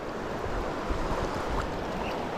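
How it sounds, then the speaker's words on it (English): Fast-flowing river water where trout are being fly fished, a steady close rushing wash with low rumbling turbulence holding level throughout, with no voices. "This fast water, guys, is vital for this time of year."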